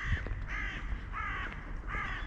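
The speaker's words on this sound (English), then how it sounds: "And the crows are very happy about that." Crows caw in three loud, harsh bursts spaced about evenly apart, close by, over a low background rumble.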